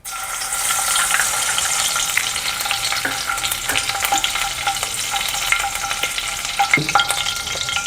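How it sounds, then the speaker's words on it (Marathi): Butter melting into hot oil in a pan, a continuous close sizzle with fine crackling pops and occasional sharper spits throughout, steady and fairly loud with no voices. "आता मी पॅन ठेवला आहे आणि त्यामध्ये तेल टाकलेलं आहे त्यामध्ये थोडं बटर टाकते"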